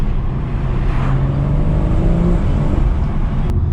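Inside the cabin of a BMW M140i driving at night, a steady, loud engine drone hums low and continuous, with a brief click near the end and no talking.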